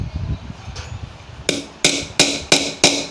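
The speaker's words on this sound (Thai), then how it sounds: "เจาะให้เป็นรอยก่อนนะครับ" Five sharp metallic hammer strikes on a punch into a steel grass-trimmer line head plate ring out in a steady rhythm, close and loud, after a brief stretch of quieter handling noise.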